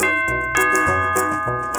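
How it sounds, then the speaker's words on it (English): A cartoon doorbell rings out in clear, ringing chime tones, struck several times in quick succession and loud against an otherwise quiet background. "Uncle Hairy rang the bell."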